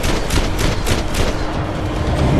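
Rapid bursts of gunfire during a slow-motion bullet-time headshot in Max Payne 3, a dense, continuous volley of shots that fills the whole moment without any talking.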